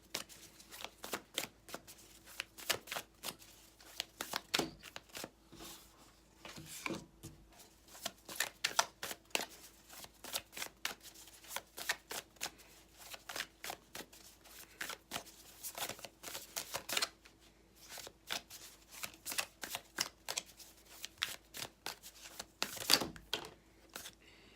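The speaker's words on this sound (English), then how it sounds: "this deck, of course, is so thick that it's really hard to shuffle." Thick tarot deck being shuffled by hand, a long run of crisp riffling and card-slapping bursts in irregular rhythm, close and fairly quiet, with no talk.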